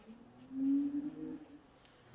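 A marker squeaks briefly as a word is written on a board in a quiet room, a faint single stroke sound of about a second with no talk.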